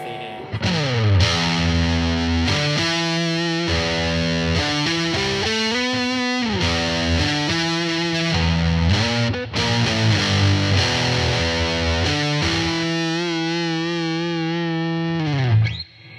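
A bass guitar played through a Wampler Dracarys distortion pedal gives a thick, heavily distorted, sustained riff with chordal notes and slides, loud and alone.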